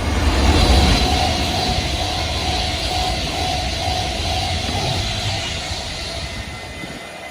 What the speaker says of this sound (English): This is Euston to Liverpool Lime Street, I think, yeah. It's a proper Avanti one.